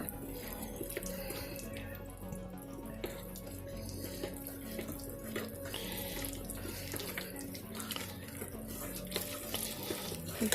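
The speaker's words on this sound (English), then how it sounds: "Let me go ahead and wash my hands" Hands are washed under a running kitchen tap during cornbread preparation, the water flowing in a steady, close splashing stream with no pauses.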